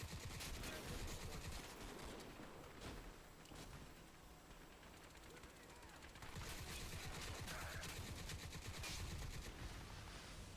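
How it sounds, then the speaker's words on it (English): Heavy machine gun fire in the Crysis 2 video game, a dense, loud continuous burst of gunfire running through the whole stretch with other game noise and voices mixed in. "It's the heavy machine gun."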